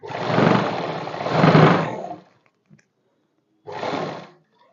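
A sewing machine runs close up while stitching a simple kurti sleeve, with a long steady whirring burst, a pause, then a second shorter run.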